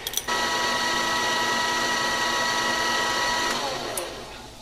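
A drill in a machine shop cuts through a machined gas cap part, giving a loud, steady whirring grind that holds for several seconds before easing off, with a couple of sharp clicks, and no voices.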